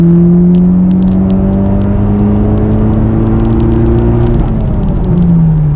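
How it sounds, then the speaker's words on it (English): A car engine revs through a sustained 3,000 to 7,000 RPM pull, a loud, steady, rising whine and drone close by that drops sharply near the end of the run. "Now we have to go do a 3 to 7K RPM pull"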